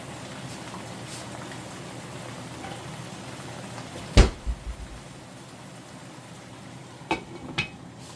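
A lid set down on a pot of pork chops simmering in herbed tomato sauce gives one sharp clatter with a couple of brief rattles after it, then a quiet simmer, and two lighter clinks near the end.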